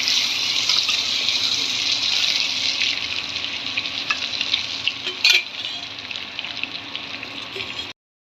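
Potatoes frying in a pan while a biriyani is being prepared, with a steady close sizzle and occasional stirring scrapes for about eight seconds, then stopping abruptly.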